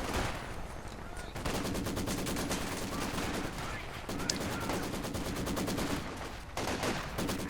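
MG42 machine gun fire in Company of Heroes 2, a loud sustained rapid rattle of automatic bursts with brief pauses, running through nearly the whole stretch amid battle noise.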